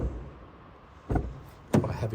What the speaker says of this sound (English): Quite a heavy door actually.